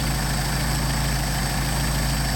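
A Mercedes 190SL engine with Solex carburetors idles steadily, a loud, continuous low rumble with an even mechanical hum and no voices over it.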